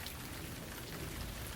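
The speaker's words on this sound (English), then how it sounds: "it started to pour, rain pouring all over the land" Heavy rain pouring down steadily, a dense, even wash of drops with no breaks and no voices.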